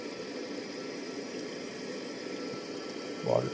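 Steady rushing water flow into a toilet tank through a Kohler fill valve, with a constant low hum, continuous and fairly even, with a short gurgle near the end.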